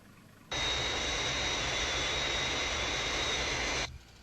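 A Fireflash jet aircraft approaching the runway on its glide path, a loud steady roar that starts abruptly, holds unbroken for about three seconds and then cuts off sharply.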